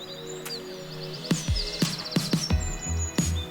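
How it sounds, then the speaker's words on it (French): Barn swallow calling in a garden, a run of short high chirps and twittering notes close by, with a few low thumps underneath. "Réponse, une hirondelle rustique."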